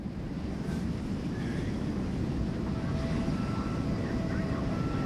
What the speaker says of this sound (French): L'avion ne touche plus le sol.